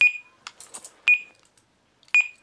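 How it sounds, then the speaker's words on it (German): An electronic alarm sounds three sharp, loud beeps at roughly one-second intervals, with softer clicks and rattles between them in an otherwise quiet room. "Countdown. Alarm."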